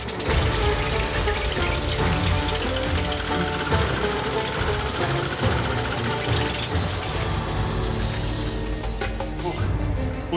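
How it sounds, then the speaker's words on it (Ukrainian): A heavy jackhammer pounds rock in an emerald mine in Colombia, hammering loudly and continuously at close range. "Важко, тому що цей відбійний молоток важить ого-го скільки."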